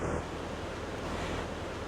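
Strong wind blows across a canal where narrowboats are moored, a continuous low rushing roar that fills the whole clip at moderate level with no talk.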